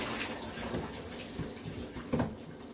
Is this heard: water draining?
yes